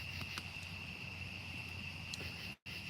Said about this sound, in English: The crickets are going crazy.